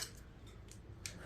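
Scissors or a blade snipping a knotted pull rope on a Troy-Bilt machine, heard as a few faint, close, crisp cuts with short bright bursts spaced through a quiet moment.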